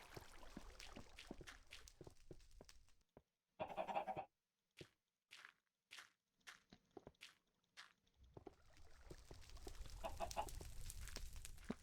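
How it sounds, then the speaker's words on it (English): Chickens clucking and squawking in bursts in Minecraft, some overlapping calls and a goat-like bleat, fairly close, with short silent gaps between. "Listen to all those chickens."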